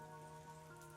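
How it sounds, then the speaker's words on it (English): Rain falls steadily in a backyard in Lakeland, Florida, a soft, even wash of drops at low level with a steady hum beneath, and a brief louder patter near the end. "I didn't realize it was raining when I came out here, but it is raining."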